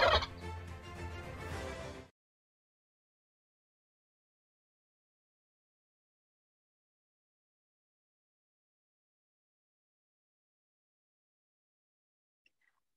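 A turkey gobbles in one loud, rattling burst lasting about two seconds, close and alone, followed by a long stretch of silence.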